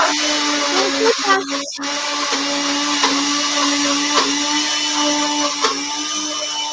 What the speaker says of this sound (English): I'm going to put myself on mute because I'm running my blender